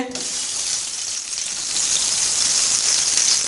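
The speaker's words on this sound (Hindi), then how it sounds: "अभी सबके से पहले हम इसके अंदर घी की प्याली डालेंगे" Hot ghee poured into a heated cooking pot over a flame while making matar pulao, giving a steady close hiss and sizzle that swells slightly louder midway, with no voices.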